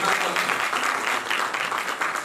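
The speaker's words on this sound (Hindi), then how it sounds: "चलो इन सब के लिए तालियां" Audience at a homeopathy medical association lecture applauds steadily, a dense, even burst of clapping filling the short clip at moderate loudness.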